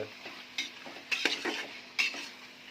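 A spoon stirs chicken biryani mixture in a pot, making several scraping and clinking strokes over a soft sizzle, close by and with no talking.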